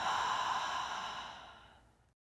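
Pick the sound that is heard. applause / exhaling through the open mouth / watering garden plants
exhaling through the open mouth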